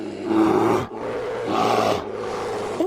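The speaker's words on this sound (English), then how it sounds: "It's a bear." A bear roaring, given as a wild animal example in a children's English lesson: three loud, sustained growling roars, each close and alone, separated by brief pauses.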